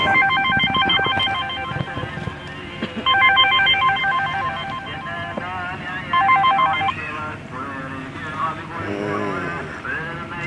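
A telephone rings in repeated bursts at an orchid nursery while people talk close by.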